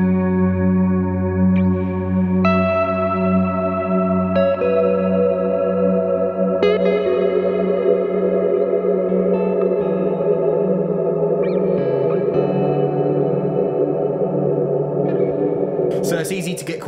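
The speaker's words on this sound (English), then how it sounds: "once you start maxing those out, that's when you really notice the infinite reverb" An electric guitar runs through a CKK Electronics Infinite Reverb pedal with decay maxed, sustained chords and notes blooming into an endless, swampy droning wash that stacks and never fades, loud and steady throughout.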